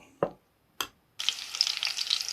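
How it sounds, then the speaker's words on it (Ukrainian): Liver patties frying in a heated pan: two short taps, then a steady crackling sizzle that rises and holds, moderately loud and close, with no talk. "підсмажувати все на нашій сковорідці, яка вже розігрівається і готова до підсмажування цих чудових смачних печінкових котлет."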